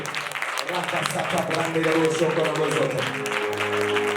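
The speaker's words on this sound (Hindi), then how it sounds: "ताली बजाकर दुआ करेंगे, जरा दुआ करेंगे।" A congregation claps along during prayer at a church gathering, a continuous wash of clapping that blends with voices praying and chanting together.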